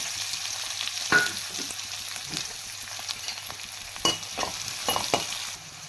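Chopped onion with cumin seeds sizzles in a hot pan for palak gravy, a steady close frying hiss broken by a few sharp stirring scrapes and clatters, with no talk.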